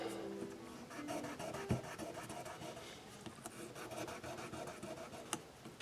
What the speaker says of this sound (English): Okay, let's just clean these frets up a little bit here. 1500 grit sandpaper on this one.